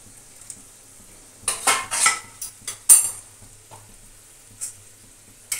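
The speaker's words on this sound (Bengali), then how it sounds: "তারপরে এই যে ঝোল দিয়ে দিচ্ছি।" Fish broth is poured into fried spice paste in a pan for a fish-head and greens curry, bringing a burst of splashing and sizzling with metallic pan clanks, then quieter clinks.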